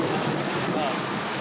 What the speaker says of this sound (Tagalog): Problema naman guys, napakalakas ng ulan.